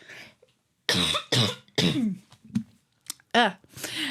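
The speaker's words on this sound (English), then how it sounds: "I'm going to cough." Several harsh coughs and throat-clearing bursts come in quick succession, close to the listener, with brief voiced sounds between them.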